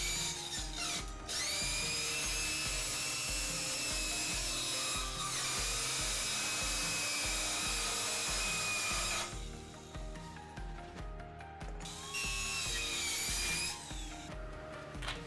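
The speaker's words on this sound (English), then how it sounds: "I'm gonna be using my Eastwood circular saw to make this cut" An Eastwood circular saw cuts through a car body panel on a Lexus IS F, a loud, sustained metallic shriek and buzzing grind with a couple of short pauses and restarts, close up with no talking.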